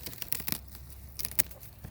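Scissors snip through the base of a Fordhook chard leaf in a garden, giving a few sharp, close cutting clicks and rustles with quiet gaps between them.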